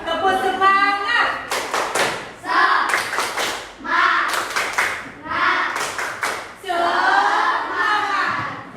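A class of elementary schoolchildren claps a rhythmic spirit-clapping pattern, loud bursts of hand claps alternating with chanted group voices.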